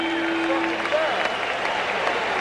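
A big boxing crowd at the Spectrum cheers and applauds at the end of a round in the Marvin Hagler versus Bennie Briscoe fight, a continuous roar of clapping and voices with a faint tone running underneath.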